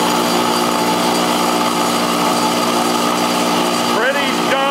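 An oil-lubricated twin-piston shop air compressor runs loudly and steadily with a dense mechanical drone, then winds down near the end, while a person talks over it.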